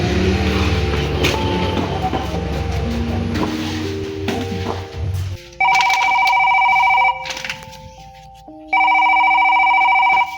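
A telephone rings in two loud electronic trills, each lasting over a second with a pause between, following a stretch of steady low rumble and tonal hum.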